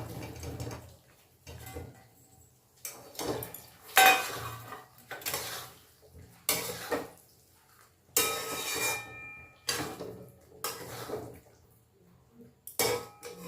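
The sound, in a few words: paneer pieces added to masala in pan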